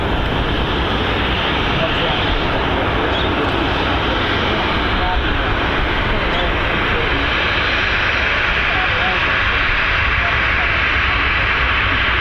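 A TUI Boeing 767 jet departing Manchester Airport gives a continuous, broad engine roar that stays steady and fairly loud throughout, with voices faintly underneath.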